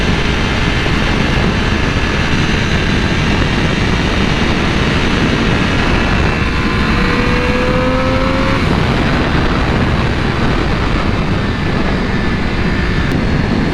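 A 2020 Triumph Daytona 765 motorcycle on a first ride, its engine screaming at high revs in a dense, continuous roar mixed with heavy wind rush, with a brief rising pitch sweep midway and no pause throughout.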